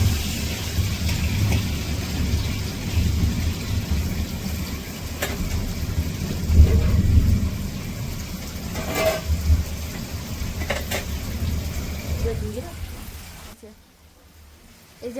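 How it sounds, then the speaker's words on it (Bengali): Heavy rain pours down outside, a dense broadband hiss with a few sharp knocks, holding steady for most of the span before dropping away to near quiet at the end. "ভীষণ বৃষ্টি হচ্ছে আমাদের এই সাইডে।"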